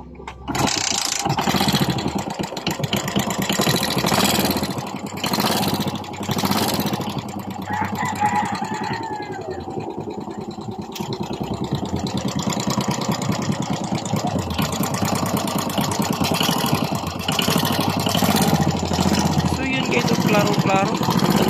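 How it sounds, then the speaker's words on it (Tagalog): Suzuki Smash 115 motorcycle with a reported ticking fault, its engine running steadily at close range for about twenty seconds while someone talks over it. "para marinig nyo ang kanyang makina ay kailangan paandarin muna natin"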